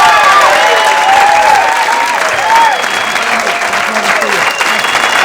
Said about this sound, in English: Please, a nice round of applause for Mr.